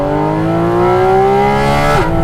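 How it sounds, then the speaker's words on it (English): A 2022 Porsche Cayman GT4 RS engine drops through gears on its own, a loud steady near drone with rising harmonics that dips sharply near the end, with a faint suck of intake air. "That's the car automatically going down gears, and you can hear just the little suction of air."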